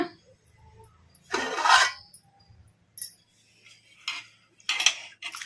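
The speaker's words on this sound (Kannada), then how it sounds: "ಈಗ ತಟ್ಟೆ ತೆಗೆದು ನೋಡೋಣ" A plate lid is lifted off a bowl of soaked cowpea lentils in a home kitchen, giving a few separate clattering scrapes and clinks with quiet pauses between them.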